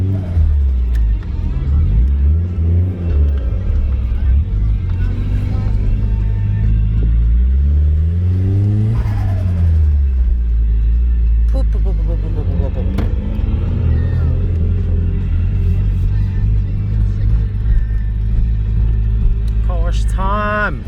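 A Nissan S15 Silvia engine revs and drops repeatedly while driving, a loud close cabin rumble rising and falling steadily throughout.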